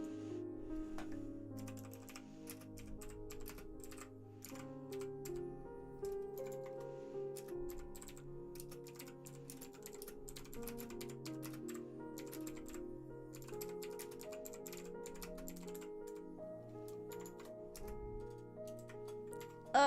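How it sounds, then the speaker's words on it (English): Light, irregular clicks of a computer keyboard, typed one-handed, tap along close to the microphone during a livestream, with soft background music beneath and no clear talk. "I'm typing one-handed."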